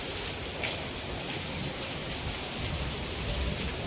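Rain falls steadily during a downpour over Kalahandi, a continuous, even hiss of drops on surfaces at moderate level with no break.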